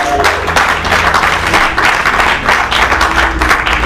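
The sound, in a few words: congregation applauding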